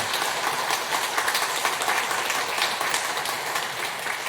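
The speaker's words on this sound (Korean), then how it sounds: "수료증과 선물을 드릴 때 박수로 축하해 주시기 바랍니다" A church congregation in Korea claps to congratulate graduates of a church education course during a Sunday service, a steady wash of applause that stays fairly loud and even throughout.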